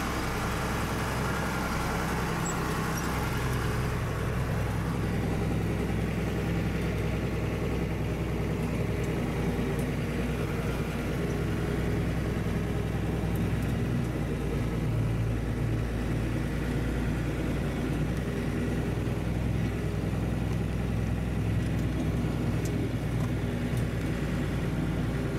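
A tractor engine drones steadily throughout while spreading manure, a constant loud rumble with rattling and bouncing noise from the moving machine and no pauses.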